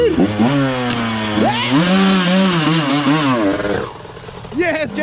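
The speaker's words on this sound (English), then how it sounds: "Rev her up, dude!" A 1997 CR125R motorcycle engine revs hard in the cold, rising and falling in pitch with loud, close, buzzing blips, while people shout excitedly over it.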